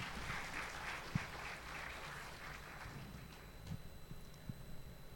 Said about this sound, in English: Can we please have a huge round of applause for our three panelists?